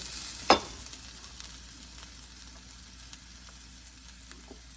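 Red chili and dried mango powder being stirred in a frying pan, one sharp scrape near the start and then a soft, steady sizzle continuing quietly with no talking.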